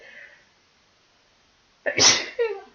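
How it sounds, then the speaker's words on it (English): A single loud sneeze bursts out close to the microphone after a quiet pause, preceded by a faint breath and followed by a short exhale. "I always sneeze when I'm on video"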